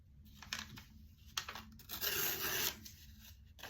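A paper trimmer's blade slices through aluminium foil to sharpen it, giving faint scratchy rasps and short crinkling strokes, then a longer, brighter tearing cut before it trails off.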